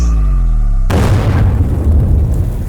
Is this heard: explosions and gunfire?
yes